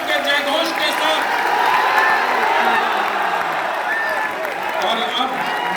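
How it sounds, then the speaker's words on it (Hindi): An audience at a Dainik Jagran Ramotsav event at GL Bajaj breaks into sustained applause mixed with cheering voices, a loud, dense and steady crowd roar. "एक बार सुधांशु जी के लिए जोरदार तालियों और श्री राम के जय घोष के साथ"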